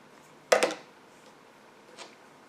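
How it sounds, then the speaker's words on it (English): Scissors snipping crochet yarn after a colour change, one sharp close double snip followed by a much fainter click, otherwise quiet. "Then you're going to take and cut the previous colored yarn."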